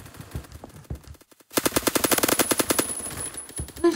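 An AK-12 rifle fires in Roblox Phantom Forces team deathmatch: a few scattered shots, a short pause, then a loud, rapid automatic burst of close gunfire.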